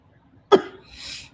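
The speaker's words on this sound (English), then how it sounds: "I'm clearing my throat because I have Tourette's," A single sharp throat clear from a person indoors, a short abrupt burst followed by a faint breathy exhale, close and alone.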